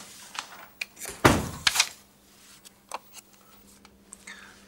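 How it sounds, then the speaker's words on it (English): An indoor door closes with a soft sliding rush and a firm thud, followed by a few lighter clicks and knocks from the latch settling, near and alone. "Jen, just close the door behind you, will you?"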